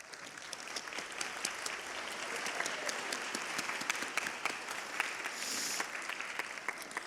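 Steady applause from an audience at an honors band performance, many hands clapping continuously for several seconds, moderately distant with a brief brighter swell near the end.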